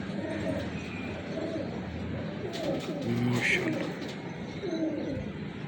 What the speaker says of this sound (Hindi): बड़ा माशाल्लाह अच्छा कबूतर है ये।